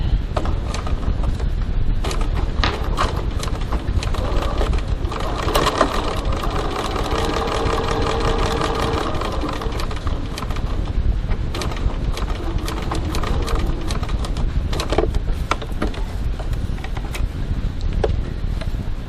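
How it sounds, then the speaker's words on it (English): A sewing machine runs steadily, top stitching fabric 3 mm from a card slot on a card organiser, with a continuous mechanical hum and rapid needle clatter throughout and no talking. "now we're top stitching 3mm 1/8 of an inch from the slot on the top side."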